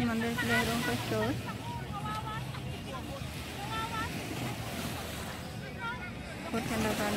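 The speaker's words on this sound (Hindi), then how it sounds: "समंदर की लहरों का शोर।" Steady wash of sea waves breaking on JBR Beach in Dubai on a hot summer day, a continuous roar with wind noise, heard under talking voices.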